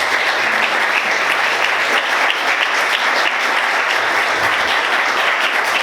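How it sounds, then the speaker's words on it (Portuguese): A church congregation claps loudly and continuously in praise during a sermon, a thick, steady wash of hands with no voices on top. "Você pode aplaudir Jesus?"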